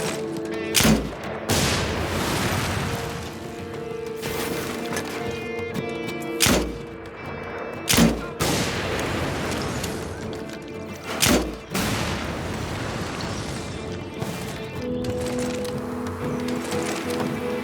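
Explosions from an air-support strike blasting a gate in the Mercenaries 2 video game: several heavy booms and thumps at irregular intervals over a steady background of game music and ambience, with no talking.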